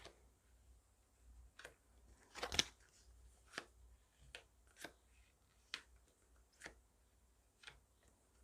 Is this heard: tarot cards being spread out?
yes